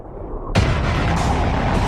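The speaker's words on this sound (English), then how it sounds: "A 1 megaton surface explosion will lift tons of soil up into the mushroom cloud" A 1 megaton surface nuclear detonation erupts as a sudden loud boom after a half-second of low rumble, then rolls on as a dense, sustained roaring blast with no pause to the end.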